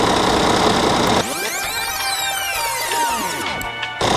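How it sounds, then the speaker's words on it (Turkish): A car engine runs steadily as fresh engine oil begins to circulate after starting. It gives a continuous mechanical hum with a sweeping whine over it, fairly loud and close, with no talking. "İçeride yağ dönmeye başladıktan sonra arabanın sesi değişmeye başladı arkadaşlar."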